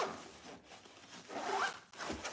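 A zipper on a travel bag compartment is drawn in two quick close strokes, separated by a short pause, with faint rubbing of the fabric and no talk.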